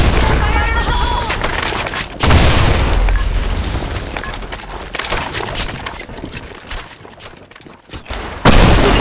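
Loud explosive detonations follow a fire-in-the-hole warning, with two sharp booms several seconds apart amid crackling gunfire and shouted voices.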